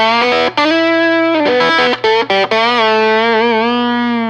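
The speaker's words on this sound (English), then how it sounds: "this is just by itself with the overdrive pedal" An electric guitar played through an overdrive pedal gives a controlled fuzz: sustained, gritty chords and notes ring loudly and continuously, with a few brief breaks between phrases and no talking.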